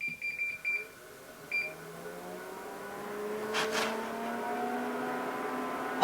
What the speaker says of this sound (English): when I turn this on, this is gonna be the fan that is inside the light